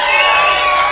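A comedy club audience at a half-hour stand-up special cheers and whoops in a short, loud burst of crowd noise.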